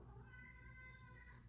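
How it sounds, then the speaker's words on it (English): A cat meows faintly in the background, a thin drawn-out cry over a low indoor hum. "Sorry if you hear my cat meowing."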